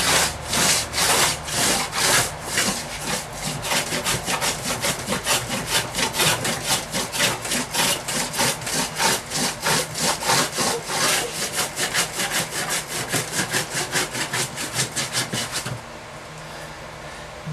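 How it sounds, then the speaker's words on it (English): Hand tool shaving thin curls of wood to smooth and even out a stringed instrument's back plate, loud rhythmic rasping strokes repeating quickly and steadily, close up, with no talking. "very fine partial shavings out of here. Smoothing it out, making sure everything's good and even"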